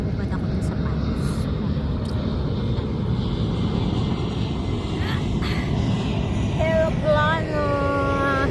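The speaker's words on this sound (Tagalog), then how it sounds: "Aeroplano." A steady, loud airplane engine roar fills the scene close by, with people talking over it and a few brief tonal chimes near the end.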